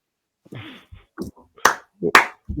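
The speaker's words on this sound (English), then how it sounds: "Where's the applause? A slow clap." A few slow, deliberately spaced hand claps ring out nearby, sharp and isolated, with brief vocal sounds in between.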